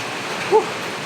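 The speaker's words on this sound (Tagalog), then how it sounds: "Kasi malakas ang ulan, mga idol." Heavy tropical rain pours down steadily as a broad, even hiss with no break, and one short faint sound rises briefly above it midway through.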